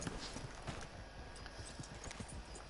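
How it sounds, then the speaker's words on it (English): Horse hooves clip-clopping in the video game Red Dead Redemption 2, a steady, rapid run of soft hoof beats on a town street with quiet ambient background. "Now I'm going to hitch my horse here so she doesn't run away."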